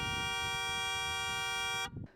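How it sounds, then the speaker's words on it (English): A car horn set off by pressing a touch button on the steering wheel blares in one steady, loud, buzzy blast lasting almost two seconds, then cuts off abruptly. "when you try to press a button, it ends up honking because the horn is on this side."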